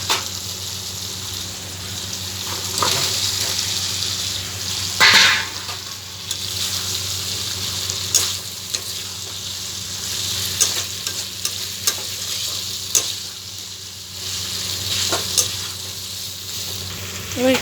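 Fried potatoes go into a cooked-down spice mix for a vegetarian aloo dum, sizzling loudly in oil. Repeated scraping stirs and clinks of a spoon against the pan come through clearly, with a sharp burst of sizzle as they hit the pan.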